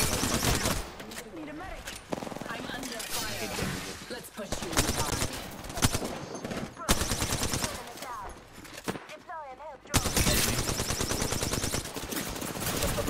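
Rapid video game gunfire in bursts and single shots runs loud and dense throughout, with a player talking over and between the shots.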